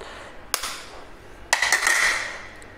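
An egg cracked into a bowl of Kerala-style porotta dough mix: two sharp, close crack-like clicks about a second apart, the second followed by a brief splattering trail, with no talk.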